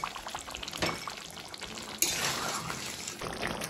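Chicken with salt is stirred in a cooking pot for biryani, giving quiet scraping and soft wet shuffling close by, with a sharper clank partway through.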